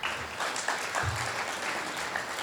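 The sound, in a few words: applause for an alumni awards staff member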